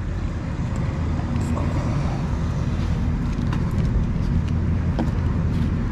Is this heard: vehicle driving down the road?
yes